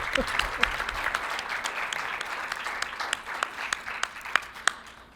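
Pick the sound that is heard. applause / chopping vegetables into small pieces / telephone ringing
applause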